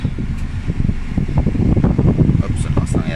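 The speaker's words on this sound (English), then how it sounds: "Oops, lakas ng aircon natin." Air conditioning fan in a 2020 Toyota Wigo blowing hard just after the engine starts, a loud steady rush of air with faint clicks and rustles on top.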